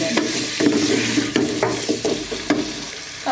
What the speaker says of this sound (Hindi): आलूओं को अच्छी तरीके से हम प्याज के साथ भून लेंगे।